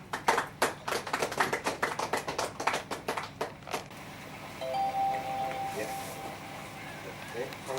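A crowd at an inauguration event in Tegal breaks into rhythmic applause for about four seconds, the claps fading out as a voice starts speaking.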